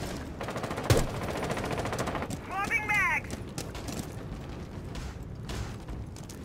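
Rapid automatic gunfire bursts out in a Rainbow Six Siege match, dense and crackling alongside mechanical clatter and a brief electronic chirp, with players talking over the action.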